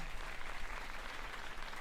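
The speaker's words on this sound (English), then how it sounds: "One more big applause for them." Dense, even applause from a graduation ceremony audience at an academy, continuous and steady throughout the short stretch.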